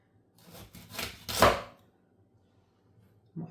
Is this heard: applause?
no